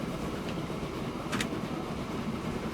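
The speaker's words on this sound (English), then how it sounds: "You will see the trains actually starting to come out already." Coal trains rolling along rails in the video game Transport Fever 2, a steady continuous low rumble of wheels with a faint clack near the middle, heard alone without talk.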